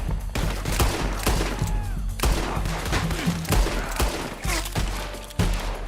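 Repeated gunfire in the Red Dead Online video game, a dense, loud exchange of sharp shots going off in uneven bursts throughout, with occasional heavier thuds.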